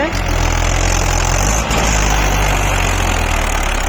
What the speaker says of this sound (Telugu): మన ట్రాక్టర్ అయితే ఎత్తుతుంది